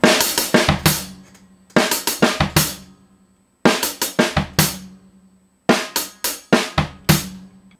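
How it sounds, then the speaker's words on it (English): Drum kit playing a steady beat of snare, hi-hat and bass drum, crisp and close, in short repeated phrases separated by brief pauses, with no voices. "all the last half is going to be a snare, hi-hat, hi-hat, snare, bass, and then bass, hi-hat together"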